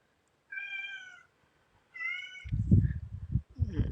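A house cat meows twice, each call clear and drawn out with a pause between, followed by soft rustling and knocking close by in a quiet room.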